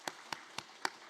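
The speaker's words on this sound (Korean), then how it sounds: "잘 다녀올 수 있도록 우리 격려의 박수 좀 하겠습니다" Sparse applause from a church congregation during a Sunday thanksgiving service, five distinct claps spaced evenly, fairly quiet and slightly distant, with no talking over them.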